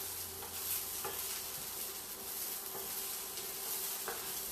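Garlic and broccoli stems sautéing in a pan, with a constant hissing sizzle and a few soft knocks of a stirring utensil, steady and close, no voices.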